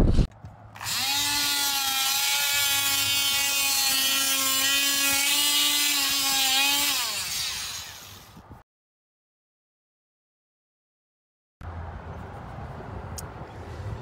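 Hand tools work a wooden bottom strip loose on a furniture piece, producing a steady, loud tonal squeal for about six seconds. A silent gap follows, then quieter scraping and rubbing. No one speaks.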